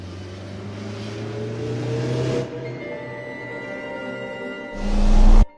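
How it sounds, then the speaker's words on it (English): A car in a Japanese action movie speeds toward a woman crossing a street: a steady engine drone builds, then a louder rising rush swells at the end as the car closes in. "A car speeds toward her."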